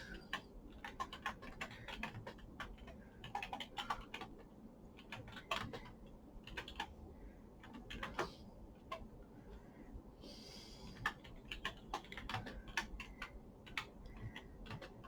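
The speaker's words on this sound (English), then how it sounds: "So type that in." Typing on a computer keyboard comes through as quiet, irregular key clicks that run steadily throughout, faint and close, with no talking over them.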